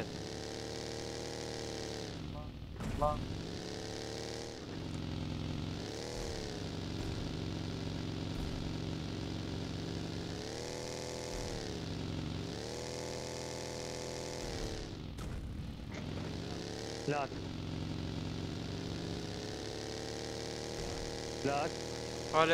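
A car engine in PUBG Mobile drones steadily throughout, with rising and falling revving swells as the vehicle drives, and several players talk excitedly over it.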